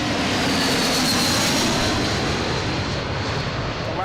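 A JetBlue airliner from LAX passes at Boston Logan, its jet engines giving a loud, steady roar that holds for several seconds with a faint whine above and no talking.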